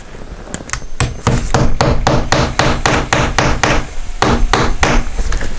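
Hammer driving nails into wood during a rotted garage rebuild: a close, loud series of sharp, regular blows, about a dozen strikes with a brief pause before the last few.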